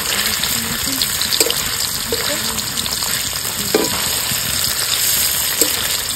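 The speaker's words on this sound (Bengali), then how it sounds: "তো পনিরগুলো তো ভাজা হয়ে গেছে" Paneer pieces fry in hot oil in a village kitchen for veg biryani, a loud continuous sizzle close by with intermittent scraping stirs, no voices.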